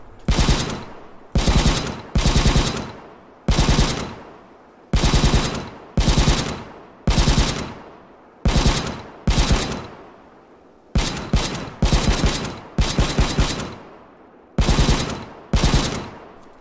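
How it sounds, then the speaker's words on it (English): PKM machine gun in the Arma 3 video game firing about a dozen loud, close bursts, each a rapid string of shots separated by short pauses, with no talk over it. "PKM. See, this is classed as like machine gun."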